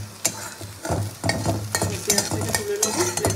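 Onions frying in a pan and being stirred, with a steady sizzle broken by repeated scraping strokes of a spatula, close and moderately loud with no talk.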